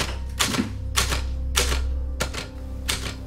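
Bursts of mechanical typewriter keystrokes, clattering in quick clusters separated by short pauses, fairly close with no talking.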